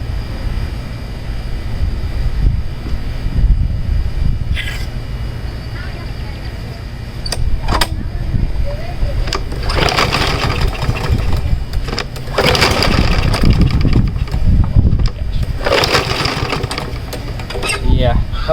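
A Troy Bilt 550ex lawn mower engine is pull-started by hand. Repeated cord yanks give short raspy bursts of cranking that sputter and fail to catch, with quieter gaps and some talking between attempts.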